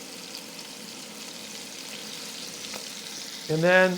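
Beef sears in a pan for a red wine stew, a soft, steady sizzle running throughout before a brief voice speaks at the end.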